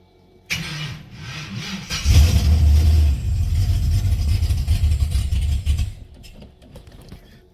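An LS V8 engine cranks, fires and settles into a rough, loud running idle for several seconds before cutting off, heard alone and close up.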